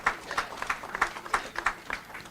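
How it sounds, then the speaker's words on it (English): An audience at a memorial celebration for the late Brian Asiimwe Mugume claps for Dr. Grace Mugume, a steady patter of hand claps from a modest crowd, moderately quiet and fairly even. "And I would like you to clap for him."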